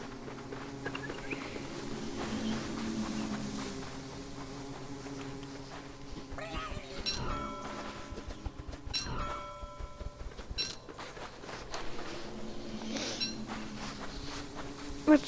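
Buzzing bees from the video game Don't Starve Shipwrecked, a low steady hum with occasional brighter chimes and game effects.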